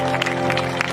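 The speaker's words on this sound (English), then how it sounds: "can you just applaud for you coming out for love today?" An audience at the Love and Unity Fest, an outdoor music festival, applauds in a brief burst of dense clapping, fairly close and steady over a sustained musical backdrop.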